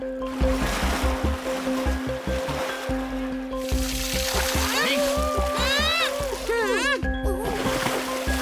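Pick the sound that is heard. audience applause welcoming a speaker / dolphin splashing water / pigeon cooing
dolphin splashing water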